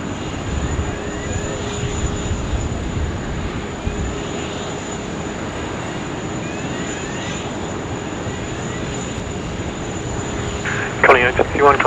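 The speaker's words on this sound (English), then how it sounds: "runway 16 right, cleared to land." A fixed-wing airliner lands on runway 16 right at Sydney Airport, heard as a steady, fairly distant engine roar under wind and background noise, with a brief rise in noise near the end.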